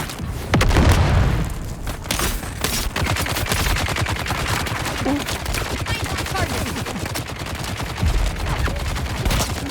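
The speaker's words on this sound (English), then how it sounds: "Oop, grenade." A grenade goes off in the Dune Awakening video game as a deep, heavy boom near the start, followed by a steady, loud stretch of rapid gunfire and combat noise.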